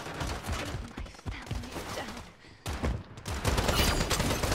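Rapid gunfire from a weapon in the video game Strinova, dense bursts of automatic shots running nearly throughout, briefly thinning mid-clip before resuming loud and sustained.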